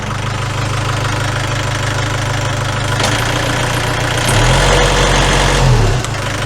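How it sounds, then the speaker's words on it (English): A narrowboat engine starts and settles into a steady, loud low diesel chug close by, its pitch lifting briefly partway through before dropping back to idle. "So, start the engine, keep going."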